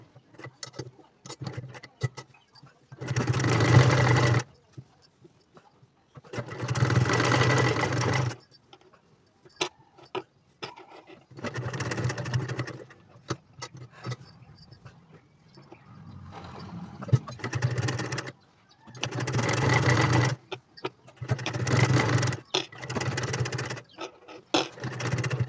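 A sewing machine stitches along the piping of a boat neck blouse, running in several separate bursts of steady whirring with quiet pauses between them. No one speaks.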